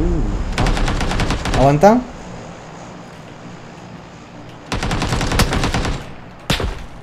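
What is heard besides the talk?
gunfire in PUBG video game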